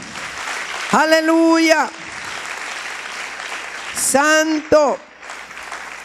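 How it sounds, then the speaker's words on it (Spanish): A church congregation applauds loudly and steadily throughout, with a voice exclaiming over the clapping twice. "Dele un aplauso fuerte al Dios Todopoderoso."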